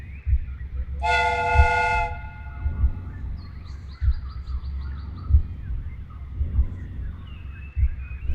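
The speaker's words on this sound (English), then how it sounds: "we have created an exact replica of the train that vanished in front of us last night" In the Sherlock Holmes: Crimes and Punishments video game, a replica steam train runs. A single strong whistle blast sounds over a rhythmic, low chugging that continues throughout, with no talk.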